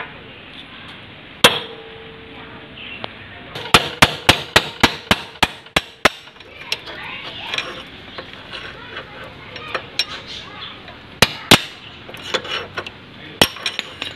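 A hammer taps an old bearing cone out of a bicycle hub: a series of sharp metallic knocks, some in quick runs and some spaced apart, close and fairly loud over a quiet background.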